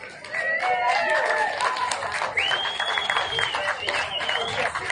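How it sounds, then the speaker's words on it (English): Spectators applaud the winner of a sailing match race at the Congressional Cup, clapping and cheering steadily throughout, close and lively, with voices and whistles mixed into the applause. "Give him a round, folks."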